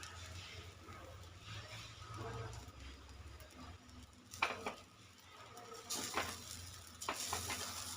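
Tomato poha sizzles steadily in a pan as coriander goes in, with scraping stirring strokes and a few louder clattering bursts of the spoon toward the end.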